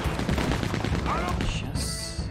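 Gunfire in the video game Red Dead Redemption II rattles out as a dense burst of shots mixed with other game sounds, while a player speaks over it.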